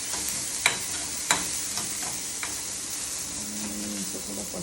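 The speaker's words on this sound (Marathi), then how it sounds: "कांदा टाकून ते थोडंसं लाल गुलाबी कलर येईपर्यंत मी हे करतो." Onions frying in a pan and being stirred, a continuous bright sizzle with a few sharp scrapes of the spatula early on, steady and close, no talking.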